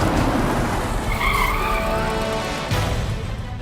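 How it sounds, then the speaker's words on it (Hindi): A car pulls up with a loud, sustained tire skid, a harsh squealing screech over engine rumble that holds steady for a few seconds before easing off near the end. "कोई गाड़ी आई?"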